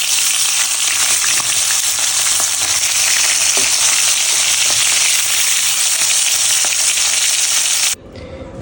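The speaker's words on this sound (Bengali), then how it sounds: "এরপর এক এক করে মাছ ছেড়ে ভালো করে ভেজে নিতে হবে" Prawns fry in hot mustard oil with a loud, continuous close-up sizzle and occasional sharper pops, then the sound cuts off abruptly near the end.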